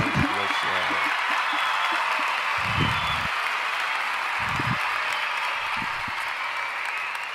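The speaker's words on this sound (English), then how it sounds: "We get a little cheer." Studio audience on a show giving sustained applause and a little cheering for two guest sisters, a dense steady wash of clapping with people talking over it in short bursts.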